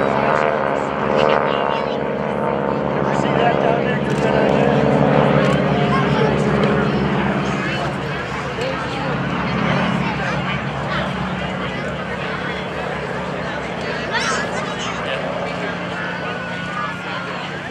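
A Stearman PT-17 biplane's propeller engine drones steadily with a throbbing harmonic hum, loud and sustained at an airshow, while people talk over it.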